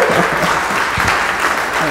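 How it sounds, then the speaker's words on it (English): Dense clapping from an audience fills the room for a guest speaker, Dr. Sue Rubin, steady and close with no pause. "Receive the applause, Dr. Sue."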